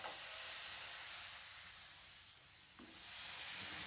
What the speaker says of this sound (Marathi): तर आता आपला पॅन गरम झालेला आहे, आपलं बॅटर घालून घेऊया.